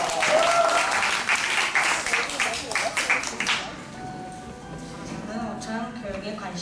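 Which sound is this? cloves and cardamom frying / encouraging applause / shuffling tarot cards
encouraging applause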